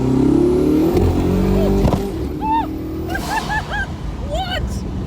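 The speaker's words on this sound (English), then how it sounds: "There was that massive pop, and then you hear the turbos." Record-chasing fastest car accelerating flat out: a loud, close engine roar, a sharp pop, then whistling turbo sounds, with excited voices over the noise.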